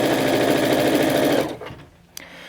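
A sewing machine runs steadily, stitching a seam on a minky throw pillow, then stops after about a second and a half, leaving quiet handling noises and one small click.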